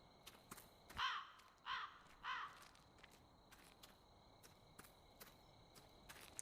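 Three loud caws from a crow in the video game The Cursed Forest ring out in quick succession, followed by quiet ambience with faint ticking and light footstep-like taps.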